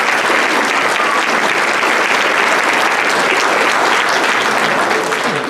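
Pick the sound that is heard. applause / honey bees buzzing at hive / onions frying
applause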